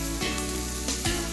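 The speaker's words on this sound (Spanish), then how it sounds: "Y las vamos echando en esta sartencita a la cual echaremos todas las setas." Chanterelle mushrooms sautéing in a small frying pan, a continuous close sizzle and hiss with brief bursts of spattering crackle.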